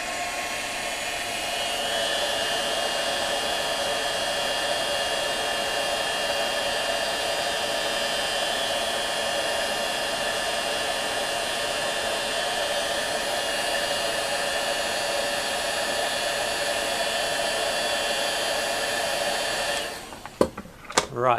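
A hot air gun blows steadily for about twenty seconds, heating heat shrink on a radio-controlled model aircraft propeller adapter, then shuts off, followed by a few soft handling clicks.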